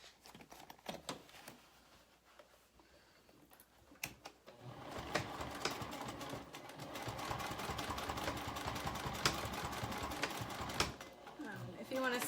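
A sewing machine stitches a seam on a fabric zipper pouch, starting with scattered clicks and short bursts, then running in a sustained steady whir that grows louder toward the end, with a voice speaking early on.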